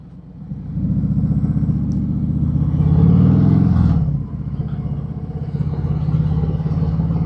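A Harley-Davidson Sports Glide motorcycle is ridden with its engine running, a steady, close, deep rumble that swells briefly before settling back to an even drone.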